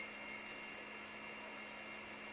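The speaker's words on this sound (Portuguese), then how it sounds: "E aqui eu estou usando a raquete, é a planetária com o batedor raquete." A planetary stand mixer with its paddle attachment beats butter and sugar into a pale cream, a steady, even motor whir running alone without a break.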